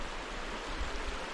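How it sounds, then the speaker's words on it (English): Creek water rushing during an ATV crossing of Bargman Creek on the Magruder Corridor in Idaho, a brief, faint, steady wash of flowing water with no talk. "Our first creek crossing"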